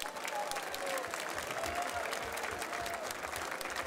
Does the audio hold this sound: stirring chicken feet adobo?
no